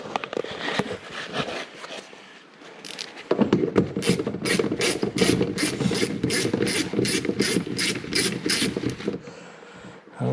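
A socket ratchet works on a car door speaker inside a Lincoln MKX rear door, giving a long run of rapid, close clicking strokes, with a few scattered knocks and handling noises before it.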